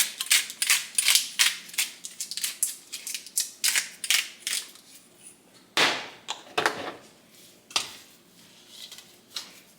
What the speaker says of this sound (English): I'm gonna crack some black pepper in here.